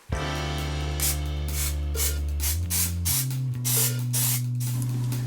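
Plasti-Dip sprays from an old aerosol can onto an airsoft rifle part in a series of short, light hissing bursts, close and fairly loud, separated by brief pauses over a faint steady hum.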